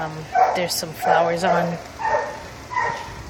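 A dog barks a few times in quick yips nearby in a vegetable garden while a person keeps talking over it.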